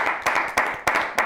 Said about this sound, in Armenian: Խնդրում եմ ծափահարություններով մամային։